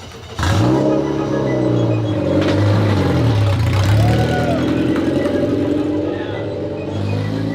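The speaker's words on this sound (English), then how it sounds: "First time on the track with the F4 car." F4 race car engine on a track, a loud close drone that starts abruptly and holds with shifting pitch as it revs and changes gears, and a voice speaks over it.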